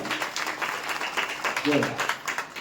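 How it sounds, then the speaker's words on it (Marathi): A crowd at a devotional kirtan gathering breaks into sustained applause, with dense, steady clapping that continues for the whole stretch. "एकदा या सर्वांकरता जोरदार सर्वांनी टाळी वाजवायची."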